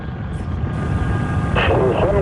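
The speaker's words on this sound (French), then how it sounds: "La navette Columbia décolle." Space Shuttle Columbia lifting off at Cape Canaveral, Florida: a loud, continuous low rumble of rocket engines fills the whole stretch, swelling into a brighter roar near the end.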